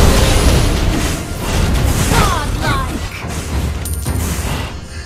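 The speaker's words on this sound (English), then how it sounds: "Your team destroyed a turret!" A turret destroyed in a video game, loud dense booming crash and explosion noise with mechanical clatter and bursts, sustained throughout at full volume, with some voice mixed in.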